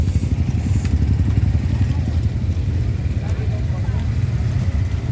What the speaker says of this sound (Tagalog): Ganda pa ng motor mo, ah.